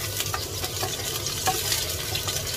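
Garlic sautés in hot oil in a pan for pancit, giving a steady close sizzle and crackle with light stirring scrapes throughout and no talking.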